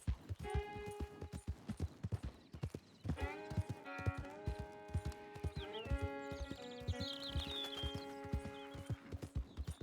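Horse hooves clip-clopping steadily on the ground while ridden in Red Dead Redemption 2, over the bodies of fallen enemies, loud and rhythmic with occasional whinnies and a tonal musical score running beneath.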